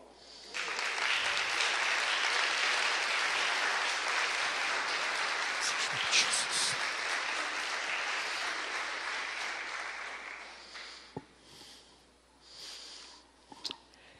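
A congregation applauds in a large gathering, sustained dense clapping that swells for about ten seconds before thinning out into scattered claps and a few closing taps.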